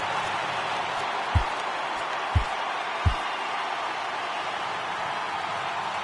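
Steady broadband roar of a video-game baseball crowd in MLB The Show, rising for a full 3-2 count, with three brief low thumps punctuating the continuous cheering noise.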